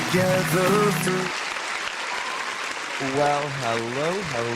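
Audience applause from a live crowd, a steady broadband clatter between stretches of singing or tuneful voice, fairly loud and close.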